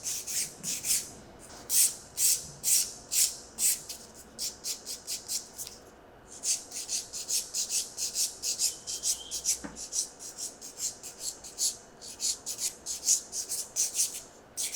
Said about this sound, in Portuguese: vou finalizar o aperfeiçoamento novamente com a lima